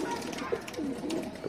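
A pigeon of an Indian breed coos softly in a few short, low, rolling calls, close by against a faint background with no talk.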